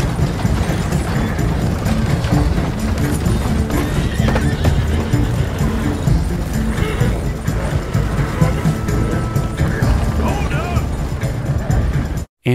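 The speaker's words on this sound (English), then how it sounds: "At number 2 is the Brindle Thoroughbred, which is my go-to horse for hunting and missions." In Red Dead Redemption 2, a Brindle Thoroughbred horse gallops with rapid, continuous hoof clip-clop and gives a whinny, loud and dense against game ambience.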